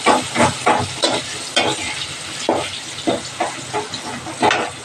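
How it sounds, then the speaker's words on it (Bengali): Onion frying with cumin seeds in fish oil for pumpkin greens, a close, steady sizzle broken by repeated bursts of stirring and scraping in the pan, with no talk. "পেঁয়াজটা একটু হালকা ভেজে নেব।"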